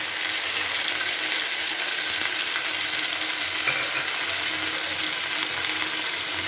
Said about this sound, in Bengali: এবার আমি বেটে রাখা মশলাটাকে দিয়ে দিচ্ছি